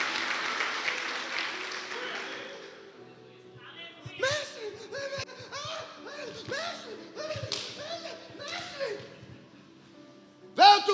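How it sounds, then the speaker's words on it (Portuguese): A church congregation claps during a sermon: a burst of applause at first, then a series of sharp, separate claps and slaps that pick up again near the end. "Se é para aplaudir, aplaude de verdade."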